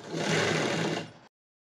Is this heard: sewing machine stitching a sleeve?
yes